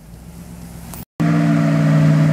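A Hummer off-road, its engine a steady low drone that cuts out for a brief moment, then returns louder and fuller with a strong low hum.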